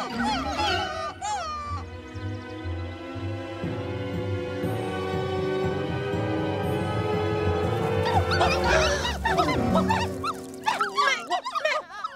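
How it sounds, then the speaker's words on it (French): Cartoon dogs yip, bark and whimper in a burst of high, wavering cries, with a background music bed and some talk beneath, the barking growing busier and louder toward the end. "Les chiens sont là"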